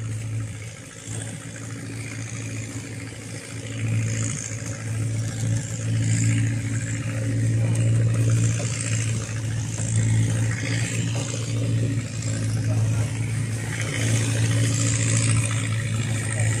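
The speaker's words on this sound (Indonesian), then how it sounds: "Kapal Bagan sudah mulai bergerak." A bagan lift-net fishing boat, the RAMBO Tiga Putri 02 from North Kolaka, Southeast Sulawesi, starts moving under tow, giving a steady low engine drone and hum that builds slightly and holds, with no talk.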